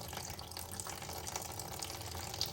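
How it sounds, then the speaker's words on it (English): Coolant gushing under pressure from a 2008 Kia Sportage radiator, a faint, steady watery hiss and splash without talk. "That's the pressure coming out of the radiator."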